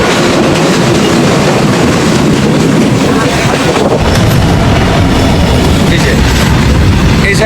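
A train thunders across the Hardinge railway bridge at Paksey, Ishwardi, in Pabna, a loud, continuous close rumble with rattling wheels on the steel spans throughout.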